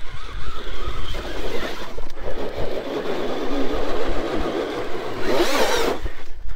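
An Axial Ryft RC rock crawler grinds over rocks on a chute with a loud, steady electric motor whine and revving that rises and falls. Gravel crunches and bumps sound close by, and a brief louder surge comes near the end.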